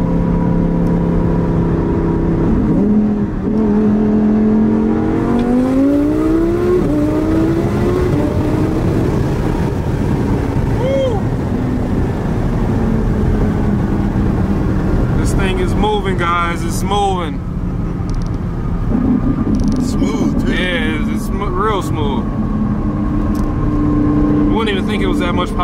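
A 1700-horsepower Audi R8 accelerating hard on a public street, its engine note climbing steadily through the gears with a loud, continuous roar, while people talk over it inside the car.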